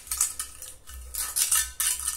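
A mason's trowel spreads colour over a burnished cement floor in repeated scraping strokes, bright and close, in about three bursts with short pauses between them.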